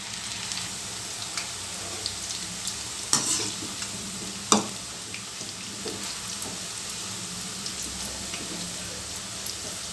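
Onion pakoda fries and roasts in hot oil in a pan, giving a continuous soft sizzle with a few sharp clinks of a utensil stirring, close and without speech.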